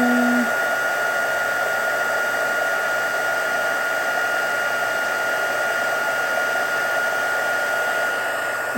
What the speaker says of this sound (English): Put our heat gun over there.